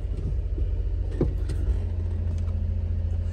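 A Suzuki Carry mini truck drives in fourth gear, its steady low engine rumble and road noise continuous and close, with a few light rattles inside the cab.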